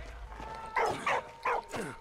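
A dog in the video game Valiant Hearts gives a few short yips and barks, four close sharp bursts spaced about half a second apart over a quiet background.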